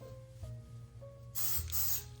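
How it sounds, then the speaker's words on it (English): A can of cooking spray lets out a single hiss of about half a second onto fingers in a home kitchen while candy is being made, close and fairly soft, with a low hum in the background. "Now we're going to spray our fingers"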